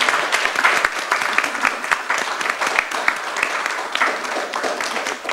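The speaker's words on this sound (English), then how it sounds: "let's have a round of applause for our artists" An audience claps for artists at the close of an evening roundtable event, a lively, continuous patter of many hands at moderate loudness with a few sharper individual claps standing out.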